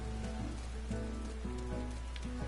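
Rain falls steadily in Final Fantasy XIV, a soft continuous patter under a low hum and a repeating tonal game melody, with no one talking.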